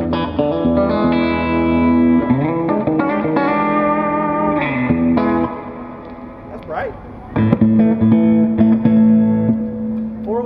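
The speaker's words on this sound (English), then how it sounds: "I got the compressor on and I got the reverb on right now." A clean electric guitar plays chords and single notes with a smooth, compressed sustain and a wash of reverb trailing each phrase.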